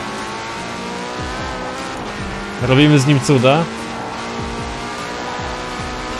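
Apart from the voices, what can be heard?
Porsche engine and exhaust in video game Forza Horizon 4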